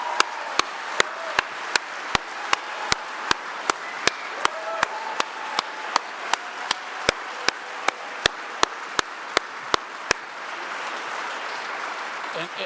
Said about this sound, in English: the applause has got to be for you guys